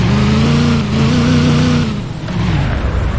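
A taxi engine accelerating, a loud rising drone with clear harmonic tones that climbs and dips briefly before picking up again, with no talking.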